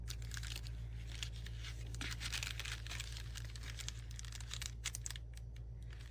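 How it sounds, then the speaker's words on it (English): Scissors snip and crinkle through paper along a seam while trimming a mini scrap journal page, a steady close run of small cuts and rustles over a low constant hum. "I'm cutting right on that seam"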